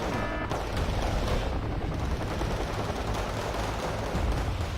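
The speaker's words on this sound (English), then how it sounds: "Artillery now falling for my PLZs. Landing amongst the Jaeger's positions." Artillery shells from PLZ guns falling on positions in the war strategy game Wargame: Red Dragon, a dense continuous rumble of blasts and gunfire, loud and unbroken with no talking.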